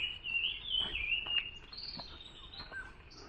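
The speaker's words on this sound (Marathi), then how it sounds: "त्यात खरकुंट्या ओरडतात शिव शिव" Birds calling in a mango orchard during the rainy season, a faint high chirping and trilling line with a few soft tapping sounds underneath, no one talking.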